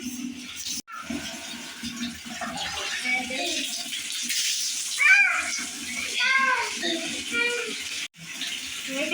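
A child splashes water in an indoor bathing area, with sloshing and running water throughout and voices talking over it.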